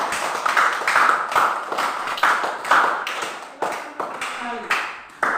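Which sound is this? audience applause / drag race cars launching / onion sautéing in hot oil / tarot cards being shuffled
audience applause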